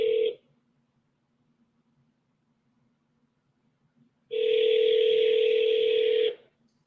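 A telephone tone sounds in two steady electronic bursts, a short one at the start and a longer two-pitch tone of about two seconds after a long silence, loud and clear with no talking.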